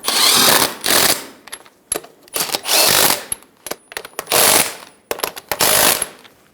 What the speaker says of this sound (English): Snug the nuts down.